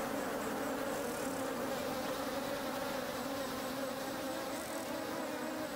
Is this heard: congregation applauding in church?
no